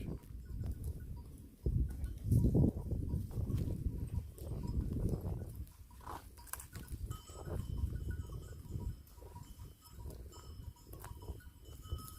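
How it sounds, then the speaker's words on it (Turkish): Clanking bells on a flock of sheep jingle irregularly in mountain village pasture, with shuffling and occasional animal sounds, fairly quiet and outdoors. "Duyuyor musunuz? Çan seslerini."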